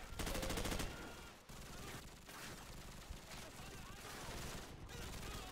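Rapid automatic gunfire from Call of Duty: Modern Warfare (2007) opens with a loud, dense burst, followed by a steady wash of battle noise and scattered shots, with a voice talking over parts of it.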